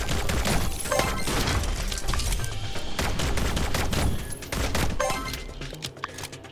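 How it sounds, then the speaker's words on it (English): Pistol gunfire in the video game My Time at Sandrock comes as a loud, dense, continuous barrage of shots with crashing, shattering impacts, lasting the whole stretch with no talking. "we also have the pistol we could be using"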